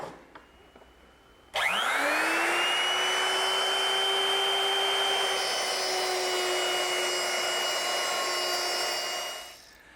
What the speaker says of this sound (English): I've set it up in my router with this guide fence, which controls the width of the cut